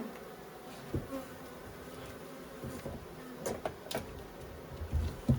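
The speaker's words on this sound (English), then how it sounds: "I hear lots of bees." Honeybees buzz steadily all around during a hive inspection, many wings droning close and far, with a few louder passes near the microphone and occasional soft knocks.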